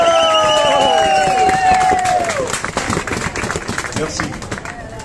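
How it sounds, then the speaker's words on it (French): An audience applauds at a political gathering in solidarity with Kanaky as a CCAT member is called up, broad steady clapping with some cheering carrying through the whole stretch over a few clear tonal calls early on. "On demande d'applaudir M. Wanabo."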